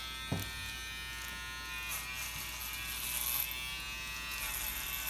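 Electric hair clippers hum with a steady, close buzz, a faint thump near the start and slight changes in tone as they move.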